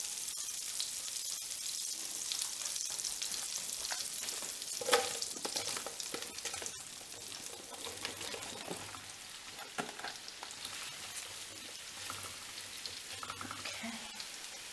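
Mushrooms sizzle in a pan of butter for chicken Marsala, a steady close crackling hiss with occasional stirring scrapes, no voices.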